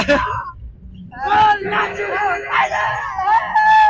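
A crowd of enthusiastic youths shouts, whoops and yells on the way to a Nepali agriculture and tourism festival, loud overlapping cheering voices rising in bursts.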